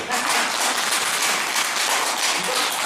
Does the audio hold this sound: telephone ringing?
no